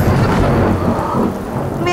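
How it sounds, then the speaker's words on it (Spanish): Heavy rain pouring down with a deep rumble of thunder rolling underneath, loud and close, with a faint tonal sound at the very end. "Está lloviendo muy fuerte y se fue la luz"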